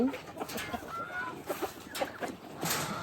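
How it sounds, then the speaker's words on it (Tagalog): Chickens cluck in short, scattered bursts close by, a few birds overlapping softly with faint farmyard background noise. "itong manok dito, bigyan ko na rin."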